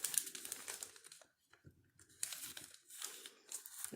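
A sheet of newspaper is folded by hand, with soft papery crinkles and rustles in short bursts separated by a brief quiet pause, close and fairly faint.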